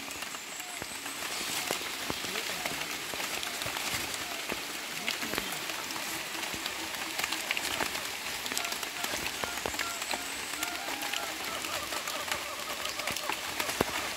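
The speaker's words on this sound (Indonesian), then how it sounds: "takutnya hujannya tambah deras" Steady rain pours down in a tropical forest, a dense, even hiss of drops on leaves and surfaces continuing without pause throughout.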